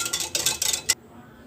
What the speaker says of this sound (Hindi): अब सबसे पहले मैं दही को अच्छे से फेंट लूँगी